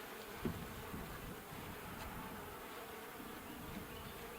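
A steady, low insect buzz of many honeybees at a horizontal beehive fills the air, continuous and fairly close, with no talking.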